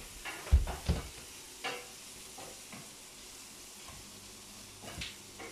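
Pork chop casserole sauce is stirred in a pan, with soft scraping strokes and a few louder knocks over a low, steady sizzle.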